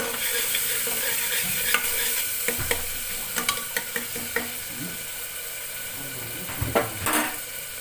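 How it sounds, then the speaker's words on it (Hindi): Black pepper being roasted in a pan while a spoon stirs it, a steady sizzle with a run of light scraping clicks from utensil on metal. A voice may sound faintly now and then. "थोड़ी सी काली मिर्ची, और इसको ना अच्छे से भून लूँगी मैं।"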